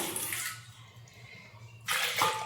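Water poured from a vessel into a cooking pot of salted potatoes set for boiling, a splashing pour that fades to a low trickle before a second, louder gush near the end, with no talk.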